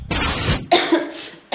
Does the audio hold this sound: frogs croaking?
no